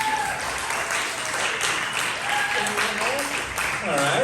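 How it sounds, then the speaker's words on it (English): An audience at a comedy show claps and cheers steadily for several seconds to vote for a comic, a dense, moderately distant wash of applause. "we're going to vote by round of applause"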